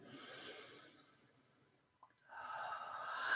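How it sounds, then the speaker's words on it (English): Slow, deep in-breaths during a guided meditation, a soft airy rush of inhalation that fades, a brief pause, then a fuller breath swelling in again, close and quiet. "Let's take 3 breaths, deep breaths in and out through the soles of the feet"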